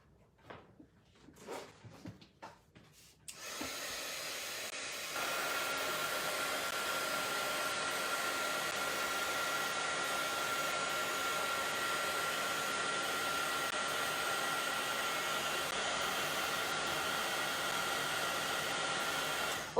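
After a few soft handling clatters, a heat embossing tool switches on and blows a loud, steady hiss of hot air over a DIY craft box, running continuously to the end.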